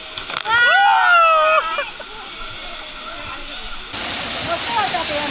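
Children jump and splash into a waterfall pool at a Devgad monsoon picnic spot, with loud excited shouting over a constant roar of falling water that grows louder and brighter toward the end.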